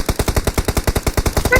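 Rapid automatic gunfire in a competitive first-person shooter match, a loud, close, evenly spaced burst of about a dozen shots fired in quick succession.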